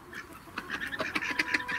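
A male Indian Runner duck quacks in a quick series of raspy, nasal calls, close and fairly loud, with no talking over it.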